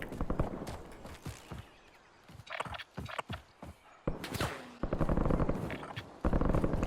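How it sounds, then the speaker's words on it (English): Gunfire in a battle-royale shooter, where sharp rifle cracks ring out in short bursts close by, mixed with footsteps and movement clatter, growing denser toward the end. "Somebody took a shot at me."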